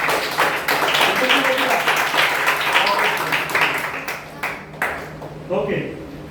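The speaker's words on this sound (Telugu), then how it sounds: "గట్టి చప్పట్లు బాబుకి" Children in a classroom clap loudly for a boy, a dense burst of applause that fades into scattered claps and taps, with a teacher and others talking over it.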